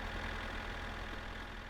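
A tractor engine in the video game My Summer Car idles with a steady low rumble and faint knocking, quiet and unbroken, with no voices.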